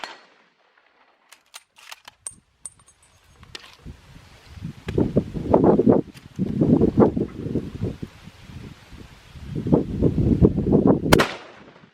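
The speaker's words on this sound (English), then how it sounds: "Next up, we'll shoot the 416." A .416 Rigby rifle fires one sharp, loud report near the end, after scattered handling clicks and a long stretch of gusty, rumbling outdoor noise.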